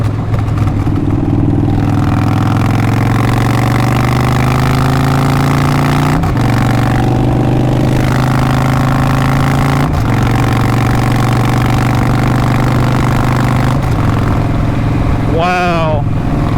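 Victory motorcycle cruising on the interstate at about 2,500 RPM and 70 mph, a steady droning engine hum with wind rush throughout, a couple of brief shifts in pitch.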